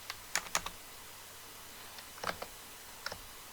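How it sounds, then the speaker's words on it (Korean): Computer keyboard keys pressed for a Ctrl+F5 shortcut: a few sharp, close clicks in small clusters separated by pauses, fairly quiet and with no voices. "컨트롤 F5번 눌러서 다시 한번"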